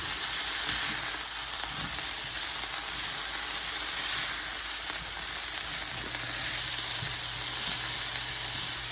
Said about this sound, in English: you should have a good sizzle. You're going to stir fry this broccoli